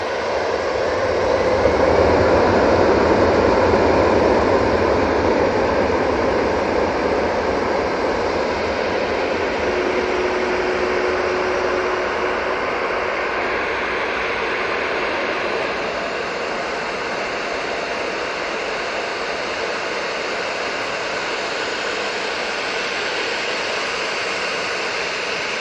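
An orange airliner on its takeoff roll at Manchester Airport, a loud continuous jet engine roar heard from a distance, swelling early and then holding steady as it runs down the runway.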